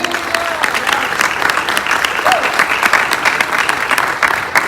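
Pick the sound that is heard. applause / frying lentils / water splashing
applause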